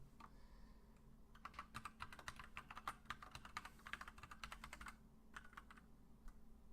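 An email address being typed on a computer keyboard: quick, quiet, irregular key clicks in rapid bursts with a short pause before a few final taps, close and alone.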